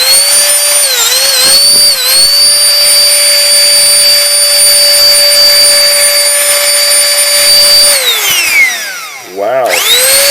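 A Canless Air O2 Hurricane electric air duster blows dust off a caked assembly, its motor whining at a loud steady pitch for about eight seconds before spinning down and briefly revving again.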